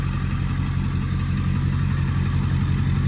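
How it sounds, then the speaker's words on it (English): A 1999 Ford F350 Super Duty conversion truck with a 7.3 Powerstroke diesel engine idles steadily, a deep low rumble with a constant, even drone heard up close from the rear, with no talking. "Truck runs real good. I don't know if you can tell or not. Out here, it sounds really quiet. Engine sounds good. It's got some nice deep tone back here."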